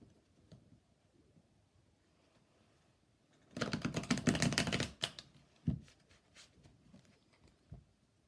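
A quick burst of tarot cards being riffle-shuffled, a dense rapid flutter lasting about a second and a half, followed by a couple of soft taps in an otherwise quiet room.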